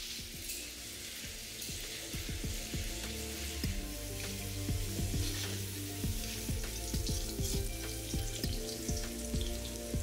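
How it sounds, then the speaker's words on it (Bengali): Potatoes frying in oil in the same pan used for katla fish, a soft steady sizzle with many sharp crackles and spits growing busier over time. "এবার এই একই তেলে আমি আলুগুলোকে একটু ভালো করে ভেজে নেব"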